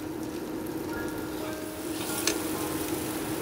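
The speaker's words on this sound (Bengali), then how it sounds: "তার জন্য ভেজে নেব আমি বেসনটা।" Gram flour and red chilli fry in a pan with a steady, close sizzle and occasional soft stirring scrapes, moderately loud and unbroken across the whole stretch.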